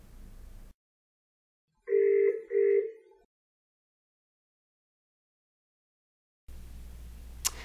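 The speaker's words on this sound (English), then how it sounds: "dial back into the system here so I can show you what Real Presence Group series can do" Polycom RealPresence Group series video conferencing system dialing a call: two short electronic tones ring out clearly in silence, followed by quiet.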